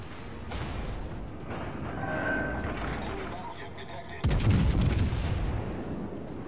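Naval gunfire in World of Warships: Legends, with the Alabama battleship in play: a dense rumble of distant cannon fire and explosions rolls on, then a heavier burst of close blasts hits near the end, under faint talk.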